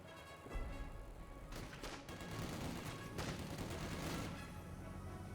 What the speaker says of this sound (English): Got a mortar barrage.